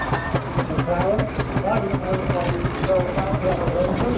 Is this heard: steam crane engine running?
yes